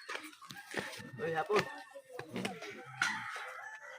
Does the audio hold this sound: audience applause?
no